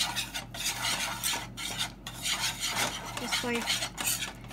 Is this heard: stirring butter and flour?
yes